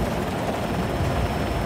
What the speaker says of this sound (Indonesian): Ada drone cuy.